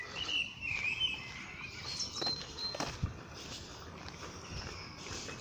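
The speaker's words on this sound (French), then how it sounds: "je vous ai mis une vidéo où vous entendez les oiseaux." Several birds sing and chirp outdoors in a Paris park, bright trilling notes over a soft ambient hum, with occasional light steps.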